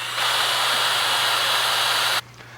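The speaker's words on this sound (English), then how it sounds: "After drilling our pilot hole" A power drill bores a pilot hole for a shade sail screw eye, a loud steady whine running for about two seconds before cutting off abruptly, leaving quiet room noise.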